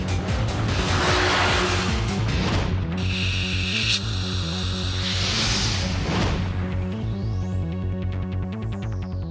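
A high-revving Honda NSX V6 sports car engine roars loudly and continuously toward 9,000 RPM, its pitch climbing and sweeping upward near the end.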